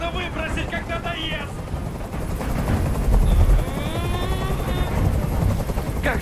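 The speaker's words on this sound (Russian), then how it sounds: "Прикажи им, чтобы вертолет убрался!" A helicopter hovers overhead in the video game Detroit: Become Human, a loud continuous rotor drone with bursts of gunfire, under someone speaking.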